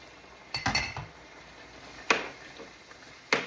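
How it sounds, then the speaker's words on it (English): Chunks of carrot and potato tumble into a pot of Jamaican brown stew chicken, giving a cluster of close clinks and knocks, then two more sharp single clatters spaced apart. "I'm gonna add the carrots and the potatoes"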